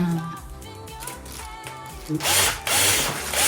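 A Black & Decker Multi Evo multi-tool running as a power drill, its loud whirring motor surging and steadying over a few seconds, growing harsher toward the end.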